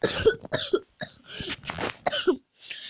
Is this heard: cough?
yes